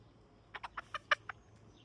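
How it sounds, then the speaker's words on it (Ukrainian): A young, very small rooster about four months old clucks six quick, sharp times in a rapid series, fairly close and otherwise quiet. "Самий розумний півник."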